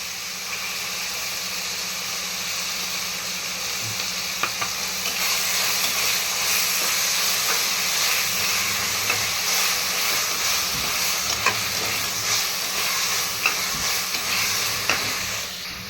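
Green chili with ginger-garlic paste and a tomato sautéing in a pan for peas rice, giving a steady broadband sizzle with soft stirring scrapes throughout, fairly close and continuous with no talk.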